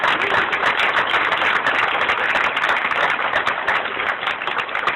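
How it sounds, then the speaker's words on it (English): Dense, steady applause from a church congregation at a mural unveiling ceremony, many hands clapping together continuously and loudly throughout. "Yes, we can clap for that"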